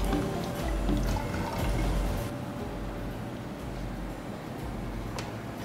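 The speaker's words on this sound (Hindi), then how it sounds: "तो सबसे पहले डालता हूँ इसमें पानी" Water poured into a flask or container before an alcohol test, a steady close liquid pour and fill that eases slightly partway through, heard alone.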